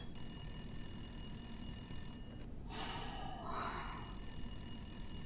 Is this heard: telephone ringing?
yes